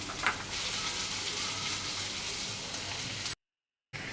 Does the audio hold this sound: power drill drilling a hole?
no